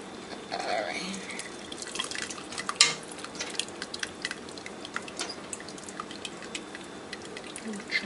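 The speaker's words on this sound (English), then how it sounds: "the vegetables are ready, so we're gonna drain it and put it in a bowl" Cooked vegetables for Haitian legume are drained into a bowl, giving faint splashes and trickling drips with occasional clinks of pots and utensils, a soft intermittent wet patter throughout.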